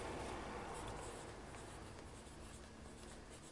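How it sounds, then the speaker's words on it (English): Pen writing on paper, a steady soft scratching that runs continuously and close, fairly quiet, with no talking over it. "I'll just write this down, page size"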